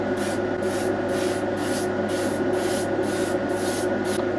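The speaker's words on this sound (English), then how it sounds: "Air going on the spray booth." An airbrush or spray booth mists paint onto an HO scale model freight depot building, a steady hissing spray with a faint regular pulsing throughout, fairly close and without talk.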